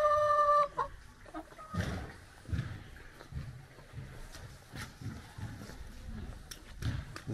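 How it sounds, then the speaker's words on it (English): Chickens cluck in short, irregular bursts close by in a Chinese village home garden, with a few higher squawks mixed in over a quiet outdoor background. "They have some chickens."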